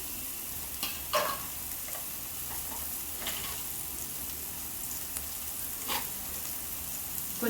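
Onions with chili powder frying in a pan give a steady soft sizzle, broken by several scraping stirs of a spoon against the pan, close and moderately quiet with no talking.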